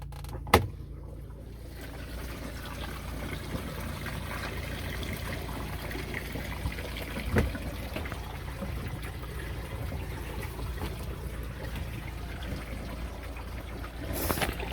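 A Giantex EP21684 portable mini washing machine gravity-drains its wash water into a tub, making a steady, soft trickling rush that runs throughout, with a couple of brief knocks.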